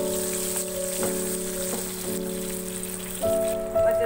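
Whole green chillies sizzle in hot tempering oil for a Pakistani shahi daal. The crackling is continuous and close, with a steady tonal hum underneath and no voices.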